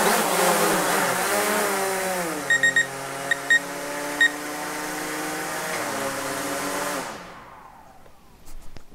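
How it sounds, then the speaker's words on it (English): An SJRC F22S budget camera drone hovers in place indoors, its propellers giving a steady, loud whine with a few short beeps midway before the motors spin down and stop near the end. "The drone should hover in place as it's doing there."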